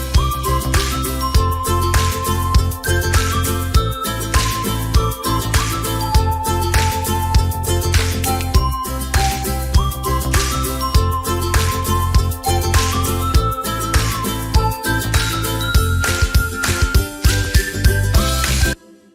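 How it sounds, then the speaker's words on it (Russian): A full stereo music mix with a ukulele among the lead instruments, steady strummed and plucked tones over bass and drums, playing throughout at even level until it stops at the end. "то есть вот эта гавайская гитарка, звучит одним из солирующих инструментов"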